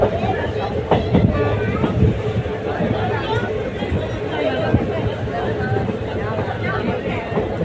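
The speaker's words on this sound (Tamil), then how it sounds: "ஜம்முன்னு போச்சுங்க ட்ரெயின்." Passenger train on the Madurai to Tenkasi line in Tamil Nadu, heard from inside as a steady rumbling roll with clickety-clack wheel beats and a murmur of passenger chatter throughout.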